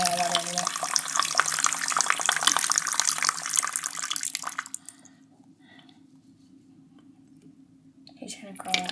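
Tap water runs steadily with a broad hiss for the first few seconds beside a hermit crab's tank, then the faucet is shut off and only quiet room tone with soft voices remains.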